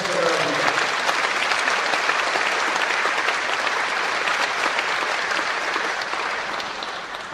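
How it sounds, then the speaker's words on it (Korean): Sustained, dense applause from a large congregation at a Korean Holiness Church anniversary thanksgiving service and inauguration ceremony, a steady even roar of many hands that eases slightly at the end. "박수로 치하해 주시기 바랍니다."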